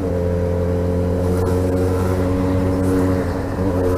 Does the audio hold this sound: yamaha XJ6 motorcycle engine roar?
yes